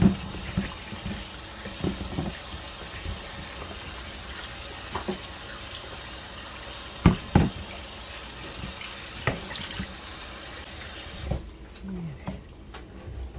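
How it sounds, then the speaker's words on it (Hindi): A kitchen tap runs steadily into a sink while cut potatoes are washed for french fries, a continuous broadband hiss with small knocks and splashes, stopping near the end to leave a quieter room. "ये यहाँ पर जी आलू को मैं धो दूँगी"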